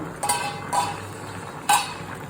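A lid comes off a pot of simmering fish curry with a few short metallic clanks and clinks, close and fairly quiet, over a faint background hum.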